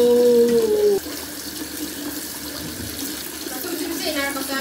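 Tap water runs loudly and continuously into a sink while ingredients are washed during preparation of a chili sambal chicken dish. The rushing water is close and steady throughout, with a brief tonal sound near the start.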